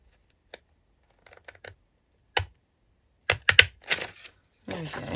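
Small children's scissors snip through paper tags in sparse, dry clicks, first isolated, then in tighter clusters of sharp cuts near the microphone.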